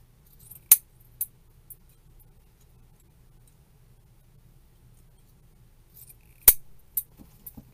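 Scissors trim a grapevine apple blossom wreath, giving a few sharp, faint snips and clicks spaced far apart against an otherwise quiet room.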